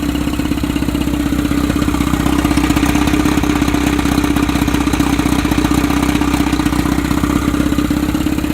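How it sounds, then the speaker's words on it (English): A 1960s Arkansas Traveler Dart fiberglass boat's outboard engine idles loudly and steadily close by, a constant low rumble with a fast mechanical clatter and no voices. "It's idling on her own after about 5 minutes, 10 minutes."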